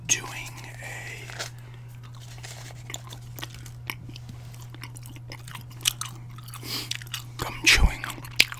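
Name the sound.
chewing gum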